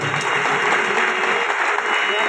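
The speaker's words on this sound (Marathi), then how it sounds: "जरा जोरदार टाळ्या वाजवून द्या" An audience at a state-level folk art festival applauds loudly and continuously, with dense clapping throughout.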